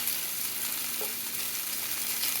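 Shrimp and tofu frying in a hot pan, giving a steady, even sizzle throughout, with a faint tap as pieces are flipped.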